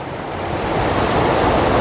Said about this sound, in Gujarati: પાણીનો ધોધનો અવાજ પણ તમને સંભળાઈ રહ્યો હશે